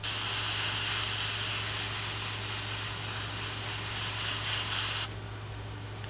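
An airbrush sprays black paint onto a fishing lure, a loud, close, steady hiss lasting about five seconds before it cuts off into a quieter background hiss, with no talking.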